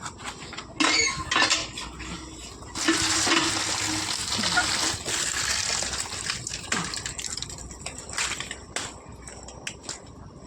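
Potatoes being washed by hand in water, with sloshing, splashing and rubbing in a container and clattering knocks throughout, louder in a sustained middle stretch and close by.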